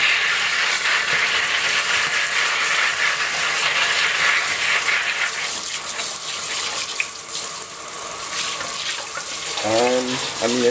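Tap water runs steadily as paint is rinsed off a Norscot Cat 365BL die-cast excavator model, a continuous broadband wash with no speech over it.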